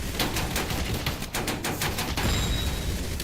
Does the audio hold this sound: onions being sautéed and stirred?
no